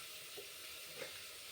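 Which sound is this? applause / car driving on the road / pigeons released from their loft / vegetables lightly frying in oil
vegetables lightly frying in oil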